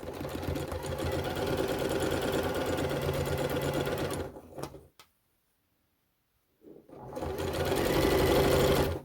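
A sewing machine stitches a fabric tube with a loud, close, rapid mechanical whir, stops for about two seconds of near silence, then starts up again.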